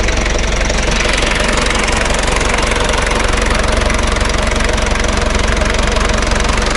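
Diesel engine of a Daihatsu Taft F50 with a 2500 cc DG engine, hood open, idling with a loud, steady clattering knock that holds an even rhythm throughout, close up and with no talk.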